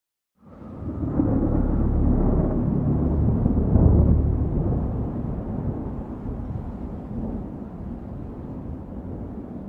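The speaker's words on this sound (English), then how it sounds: "The storm's picking up." A thunderstorm in a Desintegration video game cutscene rises into a loud, sustained low rumble that peaks, then eases into a steady roar of storm wind with no voices.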